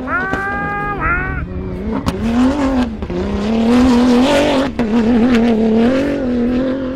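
Rally race cars roaring past at speed on a dirt special stage in the Rallye du Maroc, loud engines revving with rising and falling pitch as each car passes close by, one after another, with no talking.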